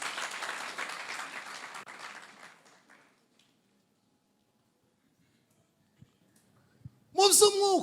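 Audience applause at a church gathering welcomes visiting gospel singers, a dense burst of clapping that fades over about three seconds into near silence, broken by a couple of faint knocks before a voice begins speaking.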